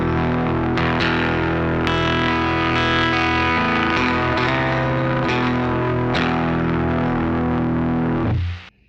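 A Cataclysm pedal's drive section, with the strop control set around 3, gives a thick, sustained distorted guitar tone as chords ring on for several seconds before being cut off abruptly, with no talking.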